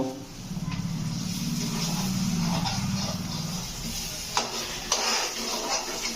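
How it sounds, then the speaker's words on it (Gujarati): A spoon stirring mag masala, a moong bean curry, in a pan: steady close scraping over a soft sizzle, then a couple of sharper clacks against the pan near the end. "હવે હલાવો."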